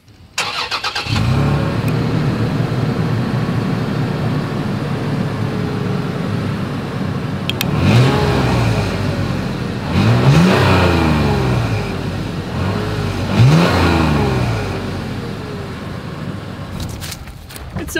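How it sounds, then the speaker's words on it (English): Exhaust of a 2021 Toyota 4Runner, loud and close: an engine start, then idle broken by three sharp revs that climb and fall back, ending with a short blip. "As always, here is that exhaust clip."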